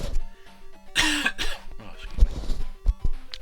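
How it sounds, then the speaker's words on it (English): A single sharp cough bursts out, followed by smaller throat-clearing sounds, close and fairly loud over faint background hum. "Just a cough before I started."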